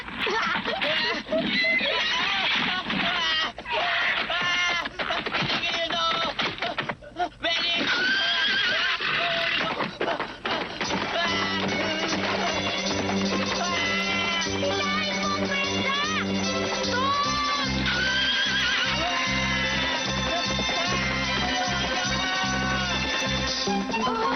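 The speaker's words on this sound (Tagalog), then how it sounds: "Talaga ganyan sumakay ng kabayo si Tom" An animated horse in a Tagalog-dubbed cartoon neighs and whinnies loudly while hooves clip-clop, all set within dense background music and occasional dubbed dialogue.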